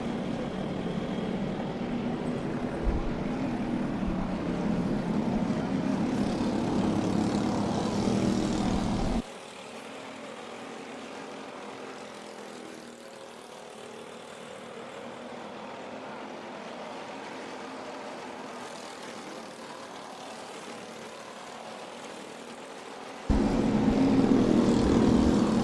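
Racing karts at Adams Motorsports Park drone as buzzing engines at a moderate distance, rising and fading as they circulate, with a quieter stretch in the middle before the whine returns louder.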